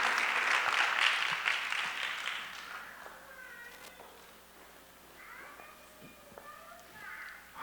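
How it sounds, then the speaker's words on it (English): Audience applause at an inaugural high school awards ceremony in Framingham, a dense wash of clapping that is loudest at the start and fades over several seconds, with some voices and cheers mixed in. "Another round of applause for Blake."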